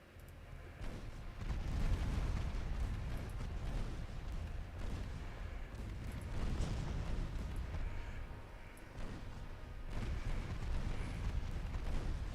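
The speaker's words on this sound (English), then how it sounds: "Okay, torpedo detonation" Torpedoes detonate in a naval battle in Ultimate Admiral Dreadnoughts as a series of deep, rumbling booms that swell and roll on, muffled and moderately distant.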